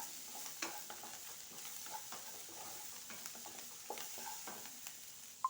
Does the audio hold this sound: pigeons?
no